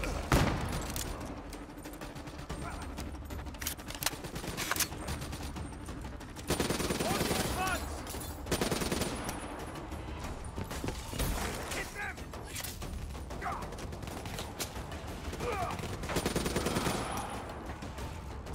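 Heavy, sustained gunfire from Call of Duty Black Ops III fills the battle, with machine-gun bursts and fusillades rolling on over loud combat noise while a voice speaks over the din.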